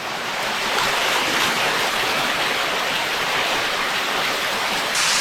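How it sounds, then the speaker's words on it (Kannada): Sagaradri waterfall at Shahapur, a rain-fed cascade with slippery mossy rocks, roars as a steady, loud, dense rush of falling water throughout with no voices. "ಫುಲ್ಲು ಜಲಪಾತದ ವ್ಯೂ ನೋಡ್ರಿ."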